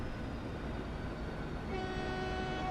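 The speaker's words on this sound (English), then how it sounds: "Right, our Chinese train is away." A departing train in the Transport Fever game gives a long horn blast in the second half, laid over a steady low rumble of rolling rail cars.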